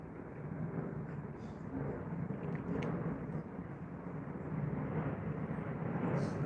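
An Airbus A320 airliner flying over produces a continuous deep roar that swells gradually across several seconds, heard outdoors from a distance without speech.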